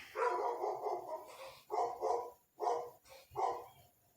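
A dog barks indoors in four rough, loud bursts, the first one long and the rest separated by short pauses; no talking.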